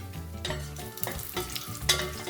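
Raisins sizzle and crackle in hot ghee alongside cashews and shallots, a close, busy frying hiss stirred in short bursts.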